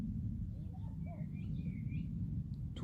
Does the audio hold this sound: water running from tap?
no